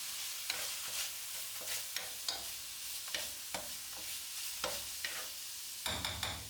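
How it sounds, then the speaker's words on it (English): Paprika is stirred quickly into a frying pan while making chicken risotto, a soft steady sizzle with repeated scraping strokes of the spoon every half second or so, close and fairly quiet. "it's time to add a bit of paprika. Stir it in quickly."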